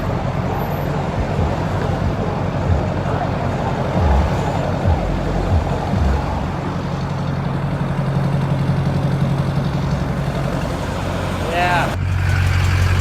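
Rush hour road traffic with trucks and cars, a steady dense rumble of engines and passing vehicles, with a few low thumps and a brief whine toward the end.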